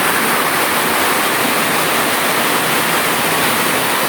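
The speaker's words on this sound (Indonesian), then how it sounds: "Ada sungai di bawah tanah ya" An underground river at the Sendang Mawar spring inside Jatijajar cave rushes with a loud, constant roar of flowing water, unbroken and close, with no voices over it.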